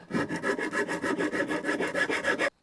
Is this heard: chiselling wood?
yes